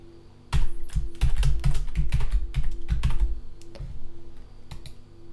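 Brisk keystrokes clatter on a computer keyboard as a BASH command is typed, a quick irregular run of close clicks with a soft hum underneath and no talking.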